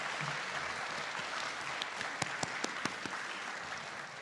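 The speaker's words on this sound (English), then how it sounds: "No, you can clap, you can clap." Audience clapping at a county school board meeting, scattered and moderately faint, with a few sharper claps standing out near the end, no voices over it.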